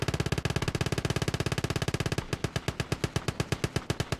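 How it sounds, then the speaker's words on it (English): Machine gun fire in the game Gates of Hell: a fast, steady burst of rapid shots that shifts partway through to a slower, heavier rhythm of evenly spaced rounds, loud and close, with no talk. "The machine gun noises are fantastic."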